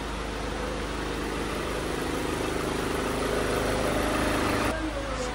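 Steady, loud drone of a Ford Everest 2.2 diesel engine running close by, a constant idle with even vibration that shifts slightly near the end.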